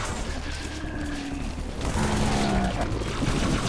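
Halo 3 gunfire rattles as a dense, continuous fusillade of overlapping shots, loud and steady throughout with a slight surge in intensity midway, a voice faintly present underneath.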